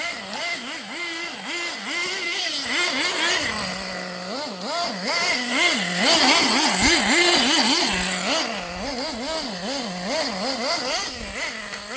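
Team Associated RC10GT RC stadium truck running on dirt, its small electric motor whining up and down in rapid, repeated revving bursts close by, steady and alone throughout.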